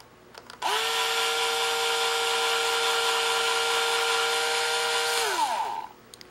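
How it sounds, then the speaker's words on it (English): A power drill bores straight into a tupelo wood duck drake carving head, giving a steady high whine that spins up, holds for about five seconds and winds down, with nothing else heard over it. "what I'm going to be doing is drilling straight in"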